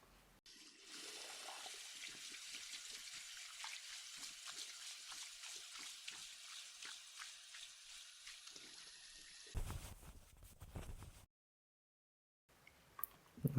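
Tap water runs steadily while someone washes up indoors, a continuous gushing stream for about nine seconds. It then stops with a few clunks, followed by silence and faint handling noises.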